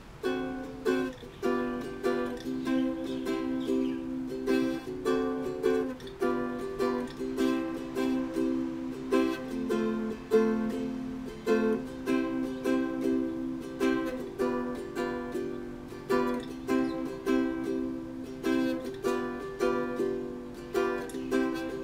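A ukulele strums through a chord progression with a bouncy vamp repeating between changes, steady rhythmic strokes, close and alone without any voice.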